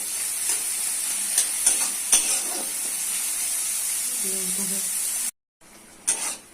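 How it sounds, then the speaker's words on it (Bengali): Soybean chunks frying with onion in a pan make a steady, close sizzle with occasional stirring scrapes, broken by a brief gap of silence near the end. "পেঁয়াজের সাথে সয়াবিন ভালো লাল করে দিতে হবে।"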